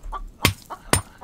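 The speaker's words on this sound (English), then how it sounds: "I tell you, these chickens, man." Chickens clucking in the survival game The Infected, a few short clucks between two sharp broadband hits, fairly close and alone with no talk.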